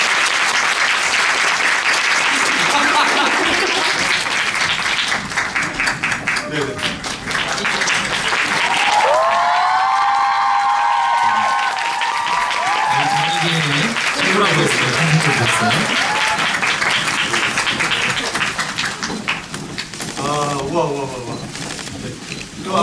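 A theater audience applauds and cheers loudly as the cast of a stage play comes out for the final curtain call, sustained heavy clapping mixed with shouts and whistle-like cries throughout.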